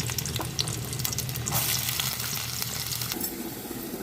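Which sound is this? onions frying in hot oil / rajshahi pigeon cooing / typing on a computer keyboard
onions frying in hot oil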